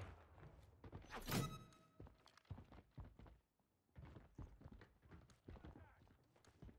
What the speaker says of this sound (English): Teammate footsteps so loud